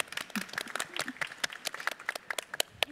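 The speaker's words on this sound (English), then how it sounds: "And now we clap." Scattered applause from a small conference audience at an AI and robotics diversity event, with irregular close claps of uneven density.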